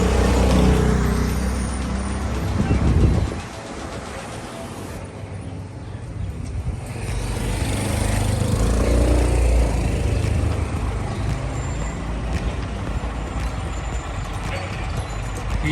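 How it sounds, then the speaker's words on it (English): A bus squeezes down a narrow lakeside town street, its engine rumbling loudly nearby with a sharp hiss of air brakes, then a steadier drone as it rolls past. "this bus is now coming down the street that it doesn't really fit"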